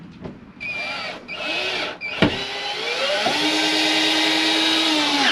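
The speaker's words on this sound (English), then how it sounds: "we want to drill a pilot hole in the bottom one because there was no hole there before" Power drill boring a pilot hole for a shower head upgrade, the motor whining up through shifting pitches and then holding a steady, loud, close drone after a brief knock.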